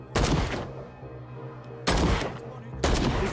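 Gunfire in the horror game Call of Cthulhu: three separate loud, close booming blasts, each trailing off into a rumbling echo, with a steady low hum in the gaps between them.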